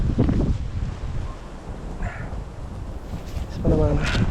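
Strong wind blows outdoors in Canada, a steady, loud, rumbling roar buffeting the microphone, with a voice talking briefly near the end.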